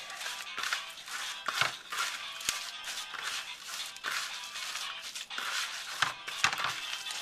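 Hands mashing a raw meatloaf mixture with panko in a bowl, producing irregular wet squelching and crinkly squishing sounds with occasional sharper slaps, close and continuous.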